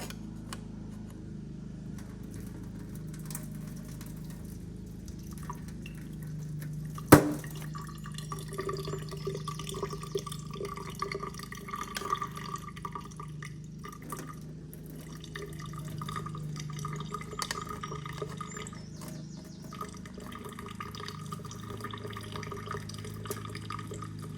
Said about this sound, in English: Slowly pour out the water, not the boba.